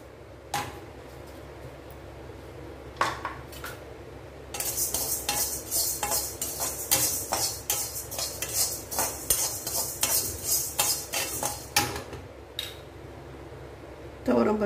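Toor dal dry-roasting in an iron kadai, with a spoon scraping and stirring the lentils in steady rhythmic strokes and a dry rustling hiss, close up, while someone talks intermittently over it.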